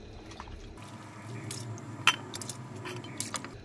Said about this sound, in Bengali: খুব সুন্দর মতন আমি এগুলোকে জল পাল্টে পাল্টে কচলে কচলে ধুয়ে নেব।